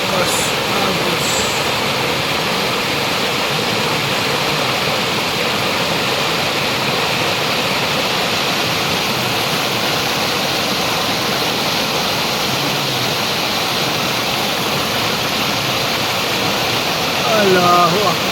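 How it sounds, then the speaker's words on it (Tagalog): A strong river current rushes past in a loud, unbroken roar of moving water. It holds steady throughout, and no one speaks over it. "Malakas ang agos ng tubig."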